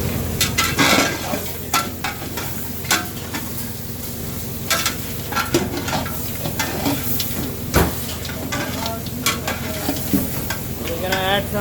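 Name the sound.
onion sautéing and sizzling in a pan for goat curry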